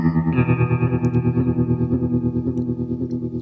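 Sustained electric guitar chords through a Chase Bliss Warp Vinyl modulation pedal, swirling with a warbling, pitch-wobbling modulation, loud and steady, with a slight gritty edge and no voices.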